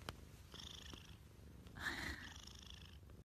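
Close, soft purring from Taylor Swift's cat runs steadily throughout, a rhythmic low rumble with a brief brighter swell partway through.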